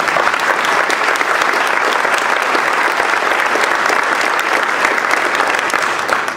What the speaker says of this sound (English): all of you deserve a round of applause for being here